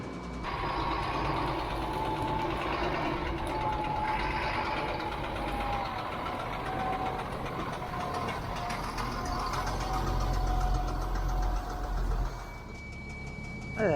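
A military truck engine idles loud and steady as its air system builds pressure, a continuous rumbling drone with faint mechanical whine and clatter, and a slight change in tone near the end.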